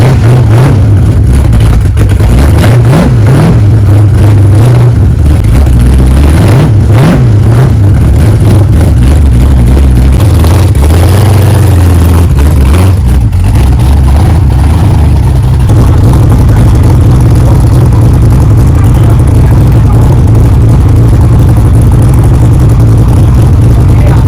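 A 1992 notchback with a 347 small-block V8 idles and revs, a loud, deep rumbling engine note that swells and settles in bursts, close to the microphone.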